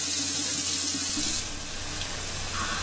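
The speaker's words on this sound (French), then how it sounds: "Donc je mets de l'eau chaude, voilà, donc là j'attends qu'elle soit très chaude, bouillante même." Hot water runs steadily from a kitchen tap to clean a baby bottle, a loud, close hiss and splash that eases slightly partway through, with no voices.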